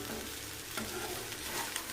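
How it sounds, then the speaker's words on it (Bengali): Potatoes frying in ghee in a pan, a soft steady sizzle with light crackle and a faint scrape or stir near the end, close and quiet. "আর এইদিকে আলু ভাজাটা করছি"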